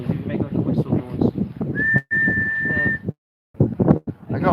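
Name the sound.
person imitating a whistle outdoors in wind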